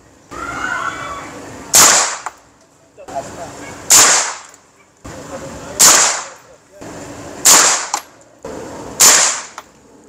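Five 5.56 rifle rounds are fired at an armored SUV during ballistic testing, each a loud sharp crack spaced about two seconds apart in an even rhythm, with murmured talk between shots.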